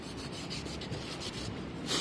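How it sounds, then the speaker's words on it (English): Steady close-up scratchy rubbing of sandpaper on a hard 1/12-scale model car mold, continuous strokes with no voices. "I'm sure the camera is super shaky when I'm sanding"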